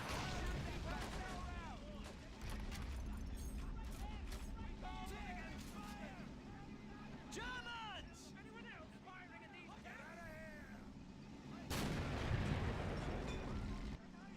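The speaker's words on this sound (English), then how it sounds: "we got our mortars firing away" Mortars and artillery keep firing across a noisy WW1 Western Front battlefield in a video game, with dull rumbling booms layered under a constant din of battle sounds and a louder blast near the end, while someone talks throughout.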